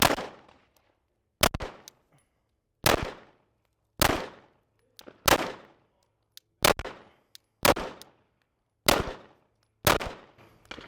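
A Glock pistol fitted with a red dot sight fires ten single shots at a steady, deliberate pace, each sharp crack ringing out clearly with a brief decay before the next.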